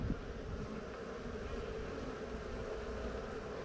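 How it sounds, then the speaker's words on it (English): Bees buzz around a hive after being fed, a dense, continuous hum of many insects at steady, moderate loudness with no talk. "I've triggered these bees by feeding them"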